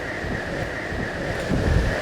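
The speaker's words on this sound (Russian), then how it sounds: "и ветер, который с ног сдувает" Strong gusting wind in Los Glaciares National Park, Patagonia, roaring steadily against the microphone with a low rumble that swells briefly toward the end.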